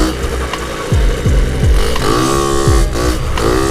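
A moped engine running hard during a wheelie, a loud, buzzy drone close by with small revving dips and pitch swoops, wind noise rushing underneath and no voices.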